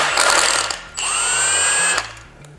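A power tool, likely an impact gun, removing 12 mm pressure plate bolts on a G37 during a rebuild: a loud close burst of rattling hammering, then a sustained whirring spin, then an abrupt stop.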